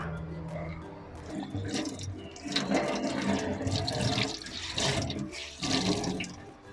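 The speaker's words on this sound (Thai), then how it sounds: "ล้างถั่วเขียวให้สะอาดนะคะ" Soaked mung beans being rinsed and sloshed by hand in water, with splashing and dripping that comes in uneven bursts. The washing sounds close and moderately loud, and no one speaks.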